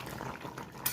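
Cashew paste and yogurt are stirred into a kaju chicken curry, with a brief, soft, wet scrape of a utensil against the pot.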